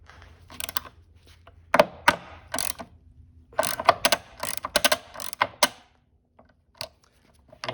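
A ratchet tool loosens tight, thread-locked bolts on a 1997-2004 C5 Corvette roof panel latch, giving close, irregular bursts of clicking separated by quiet gaps.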